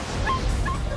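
Rescued dogs from the dog meat trade, crammed in a small hot cage, give brief high whimpers and yips, two short plaintive cries over a low murmur of background noise.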